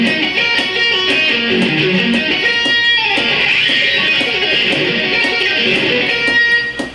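Fast guitar arpeggios in triplets played over a click track, a dense, bright, continuous run of notes with clicks ticking through the whole passage, loud and close with no voice.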